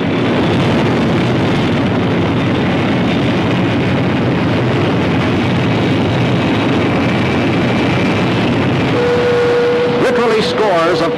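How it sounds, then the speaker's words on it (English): A rocket engine anchored to bedrock during a test firing gives a loud, steady, broadband roar that runs continuously throughout, with a brief tonal whine near the end. "rocket engines capable of bursts rated at millions of horsepower are anchored to bedrock and fired for critical audiences of experts"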